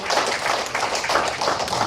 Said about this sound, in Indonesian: Tepuk tangan sekali lagi kepada orang-orang hebat itu.